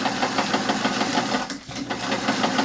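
A sewing machine stitches a weighted blanket filled with poly pellets, running in a fast, steady mechanical rhythm with one short pause midway, loud and close.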